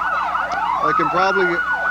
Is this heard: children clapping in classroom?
no